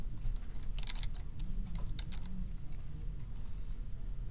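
Typing on a computer keyboard: a brief flurry of soft key taps near the start, then lighter scattered clicks over a low background rumble, with no voices.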